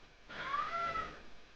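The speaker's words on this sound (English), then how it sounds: "This damn cat, it's live right now." A single drawn-out cat meow, close and clear, rises and falls for about a second against an otherwise quiet indoor background.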